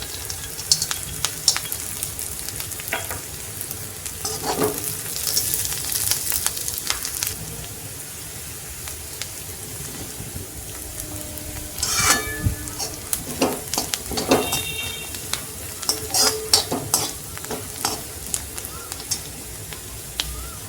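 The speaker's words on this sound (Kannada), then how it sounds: "ಸ್ವಲ್ಪ ಕಡಲೆ ಬೀಜನ ಹಾಕೋತಾ ಇದ್ದೀನಿ." Peanuts frying in a pan while being stirred, with a continuous close sizzle broken by bursts of rattling, scraping utensil strokes and crackles.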